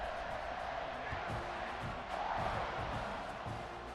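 A college football stadium crowd at Texas A&M versus Arkansas roars in a steady, distant wash of cheering and shouts ahead of a kickoff, with a commentator's voice faintly beneath.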